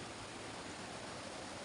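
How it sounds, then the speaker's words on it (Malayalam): Steady, unbroken roar of a rushing waterfall at Chilanthiyar in Munnar, a dense wash of white water filling the whole stretch at constant loudness, with no voices. "കുത്തി ഒലിച്ചു വരുന്ന വെള്ളത്തിൻ്റെ മുമ്പിൽ"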